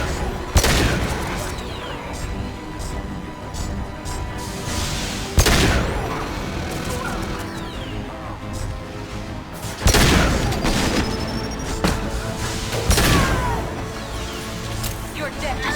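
Rifle fire in the sci-fi shooter Mass Effect 2: loud, booming shots with hard attacks recurring every few seconds over a dense, continuous battle din of explosions and crashes, with a voice speaking throughout.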